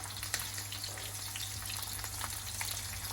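Half an onion sizzles and fries steadily in melted ghee in a pan, a continuous close crackling hiss with small pops, no talking.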